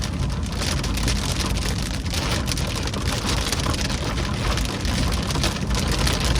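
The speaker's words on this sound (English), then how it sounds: "that rain is coming down, boy" Heavy rain pours down onto a car during a drive through a Philadelphia neighbourhood in a storm, a loud, dense and steady hiss of drops drumming on the roof and windshield with no pause.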